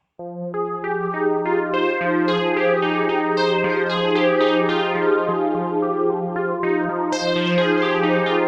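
A bright synthesizer preset plays a run of notes with echoing delay trailing each one, velocity-sensitive so some notes struck harder ring brighter than others.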